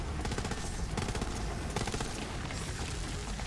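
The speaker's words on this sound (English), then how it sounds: "I'm just firing everything I got." Sustained gunfire in Borderlands 3, rapid bursts layered with continuous shots and blasts, fairly quiet and steady throughout with no talking.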